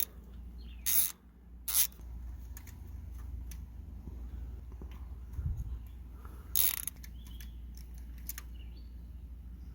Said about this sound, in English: You have those 2 bolts that we're going to have to remove.